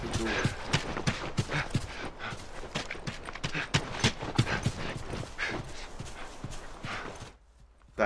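Horse hooves clip-clop in a steady rapid rhythm in The Last of Us, close and fairly loud, running for most of the stretch before cutting out briefly near the end.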